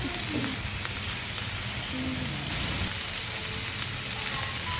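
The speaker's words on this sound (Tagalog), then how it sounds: "First, natong himuon at walang i-brown ng atuang pork." Pork pieces browning in a frying pan for adobo with coke, giving a steady, even sizzle and crackle that runs close and continuous throughout with no talking.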